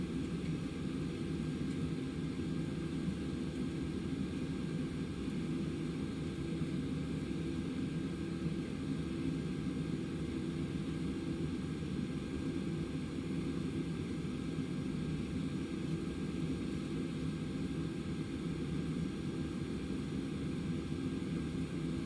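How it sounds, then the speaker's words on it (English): Airliner taxiing toward the gate at a Caribbean airport with both jet engines running at idle, a steady, even engine roar and rumble that holds unbroken throughout with no talk. "Not worth risking single engine taxi here. I'm simply going to keep both engines running."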